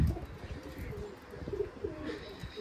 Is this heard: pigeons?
yes